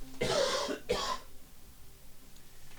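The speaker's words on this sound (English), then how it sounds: "A bit of coughing." A man recovering from the corona coughs twice in short, rough bursts, close to the microphone, then falls quiet.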